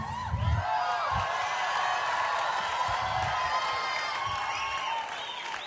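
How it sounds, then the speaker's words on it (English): An audience claps and cheers warmly for a long stretch, dense applause with scattered whoops and crowd murmur, loud and sustained before easing slightly at the end. "Why do you think these people were cheering for you like that?"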